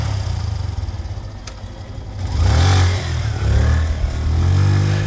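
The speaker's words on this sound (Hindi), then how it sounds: "हेडलाइट की चमक और इंजन की गड़गड़ाहट ने माहौल बदल दिया" A motorcycle engine rumbles and revs up in a horror story soundscape, a steady low drone swelling louder midway and holding strong to the end.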